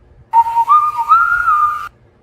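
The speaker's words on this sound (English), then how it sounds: "BJ whistled a little tune." A single clear whistled little tune, a bright wavering melody of rising and gliding notes lasting about a second and a half, heard alone against near silence.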